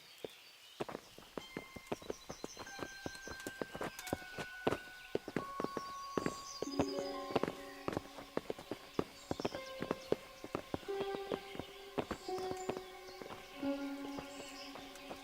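Horses' hooves clip-clop in the medieval game Kingdom Come: Deliverance, steady footfalls under a backdrop of ringing tonal music and scattered clatter, with no voices.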